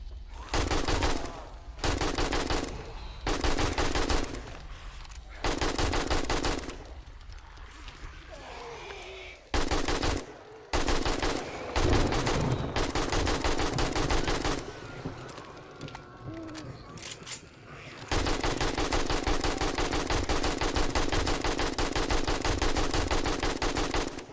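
Rapid bursts of assault rifle fire ring out in 7 Days to Die, loud, sustained automatic volleys broken by short pauses, ending in a long unbroken stretch of shooting.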